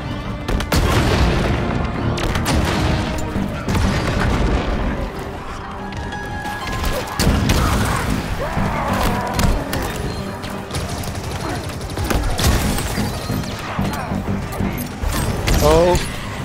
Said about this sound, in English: Oh, I just stuck a lot of enemies. Grenade out.